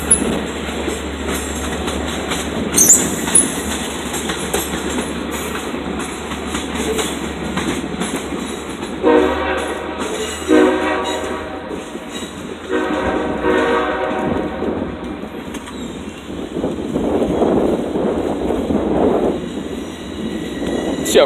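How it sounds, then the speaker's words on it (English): Long Island Rail Road Oyster Bay train crossing over at a grade crossing near New Hyde Park, with a steady loud rumble and clatter of wheels and a high horn blast early on. "So we got an Oyster Bay train here crossing over."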